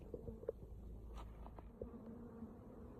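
Honey bees buzz faintly around hive boxes outdoors, a low steady hum with a few individual insects passing close, alongside soft handling sounds.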